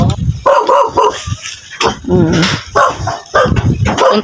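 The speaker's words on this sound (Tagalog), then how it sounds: "galit yung aso." An angry dog at a house in the Philippines barks and yips repeatedly in loud, close bursts, mixed with whimpering and a person's voice speaking between the barks.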